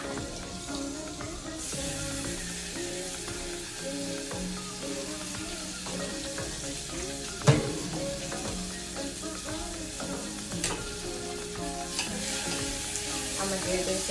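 Minced garlic and onions sizzle and fry in a pan, a steady bright crackle that holds throughout, with occasional clinks and stirring knocks and faint background music.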